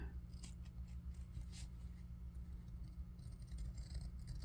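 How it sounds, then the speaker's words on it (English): Scissors snip and trim a paperclip tab, a quick series of light, crisp clicks close by over quiet room tone, with no talking. "after I clip that off, and then I just trim up the edge"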